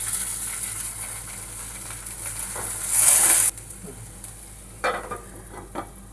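Onions and tomato frying in oil for a soya chunk dish, a steady close sizzle that swells into a loud hiss, then drops to quieter frying with a few spoon stirs and scrapes against the pan.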